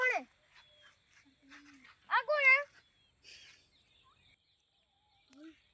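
Out in a farm field, a dog gives a few faint, short yips and whimpering barks, spaced out against near silence, with bird-like chirps in the background.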